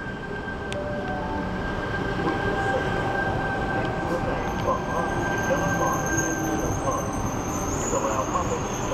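A Sydney train pulls out of Blacktown station with a steady rumbling roar, a sustained squealing tone and high-pitched wheel squeal building as it moves off at close range.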